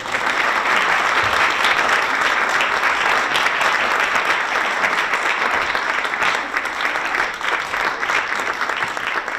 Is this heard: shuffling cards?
no